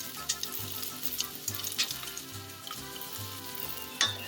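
Onions sizzle in hot oil in a pan for a chicken tinga sauce, a moderate continuous crackle with faint stirring clicks and one sharper tap near the end.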